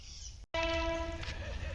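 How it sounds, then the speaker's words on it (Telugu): A train passes unseen in thick fog and sounds a sustained, tonal horn blast. Rail rumble runs underneath, and a voice talks faintly in the background. "చూడండి, రైలు కనపడకుండా రైలు కనపడుతుంది."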